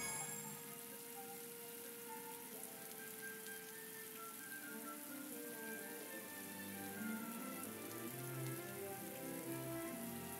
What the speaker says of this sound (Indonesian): Ini sekali hujan terus ya.